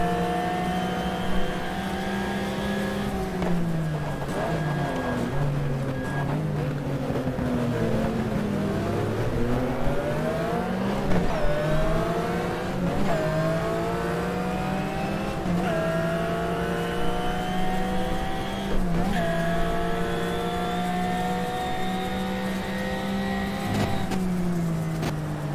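Porsche 996 race car in the racing game GTR 2 driving through a chicane, its engine note loud and steady, dipping under late braking and climbing again as it accelerates, with rising and falling revs throughout.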